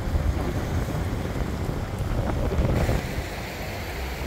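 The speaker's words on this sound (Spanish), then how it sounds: "Los geysers naturales de Neuquén." A natural geyser in Varvarco, Neuquén, Argentina, spouting water with a loud, steady rushing roar and hiss, close and continuous, with no voices.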